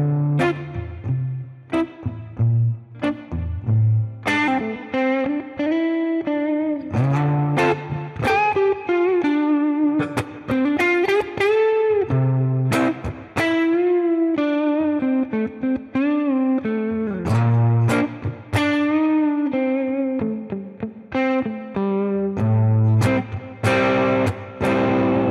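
Electric guitar played through an IK Multimedia ToneX amp modeler, with an amplified, effected tone, playing a continuous melodic line of single notes and chords, loud and alone.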